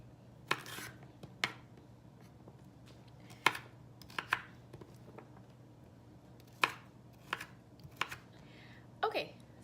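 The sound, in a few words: chopping vegetables with a knife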